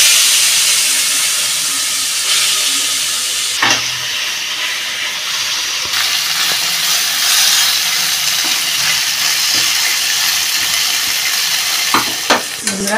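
Prawns frying in hot oil for a prawn curry with cashew nuts, onion and ginger, a loud steady sizzle and hiss lasting throughout, with occasional stirring clatter.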